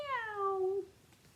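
A single drawn-out meow with a falling pitch, sung by a voice imitating a cat, close and clear.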